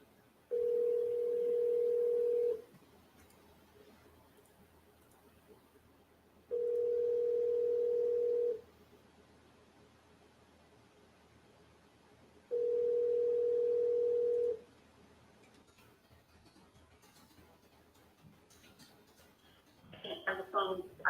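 A lost telephone rings in three evenly spaced, loud steady tones about two seconds each with quiet gaps between, followed by a burst of voices at the end.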